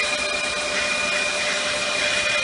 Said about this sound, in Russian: Шлифовка вала на автомобиль Volkswagen T5.